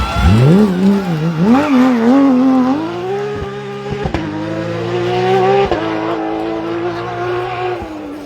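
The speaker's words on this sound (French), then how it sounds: "Écoutez ce moteur 510 chevaux" A Porsche 992 GT+ rally car with a 510-horsepower engine screams loudly past on a special stage of the Rallye de Dieppe Normandie, revs climbing and dropping through gear changes with brief tire squeal.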